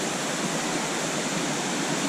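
Steady, loud roar of strongly flowing water near a waterfall at Ohiya, a dense broadband rush with no breaks and no voices.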